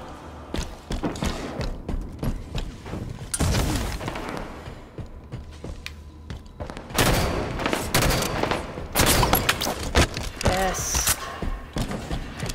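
Video game gunfire in a SWAT shootout on the Halo map Riptide, with bursts of rapid shots and heavy thuds scattered across the clip, some loud and some fainter.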